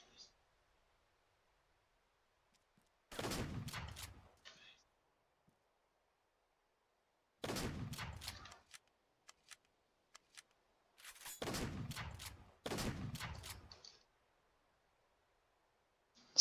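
Semi-automatic combat shotgun in Arma 3 firing in four loud, sharp bursts spaced several seconds apart, each a heavy boom with a ringing tail, with quiet gaps between.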